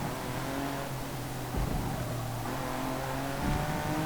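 A race car engine in Forza Motorsport 2 roars continuously at high revs during a racing run, pitch shifting with gear changes and throttle, steady and fairly quiet with no talk.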